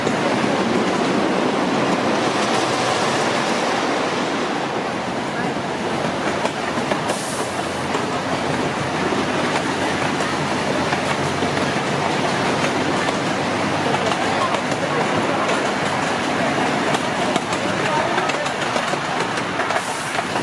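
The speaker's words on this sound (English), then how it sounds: "We should be passing another train here pretty soon." Amusement park train ride at Knoebels Grove, heard from aboard: continuous rumbling and rhythmic clickety-clack of wheels on track, with faint squeals, steady and close throughout.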